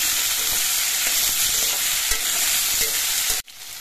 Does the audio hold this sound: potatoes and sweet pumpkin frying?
yes